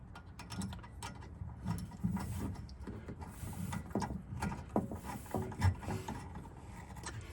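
A hand tool tightens clamps on a UTV sun visor mount, giving a quiet, close series of irregular ratcheting clicks and small mechanical knocks.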